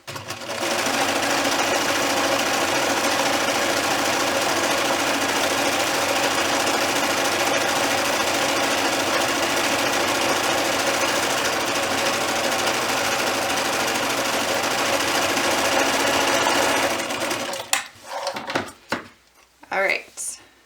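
Sewing machine running steadily, stitching the second side of a fleece ear warmer, a continuous close mechanical whir for about seventeen seconds before stopping, followed by a few handling knocks.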